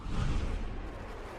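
An Airstrike attack in the Loomian Legacy video game lands as one brief, heavy, booming rumble that fades quickly, loud and alone.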